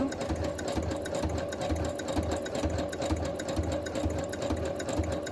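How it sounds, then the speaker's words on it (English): A sewing machine running at a low speed setting to make writing boards, giving a steady, even mechanical whir with a rapid stitching rhythm throughout, close and alone with no talk. "Now I control how fast this thing goes by using the speed monitor."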